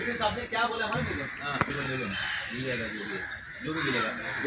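Crows caw repeatedly from the trees along the Malabar Hill elevated nature trail in Mumbai, harsh rhythmic calls close by while someone talks over them.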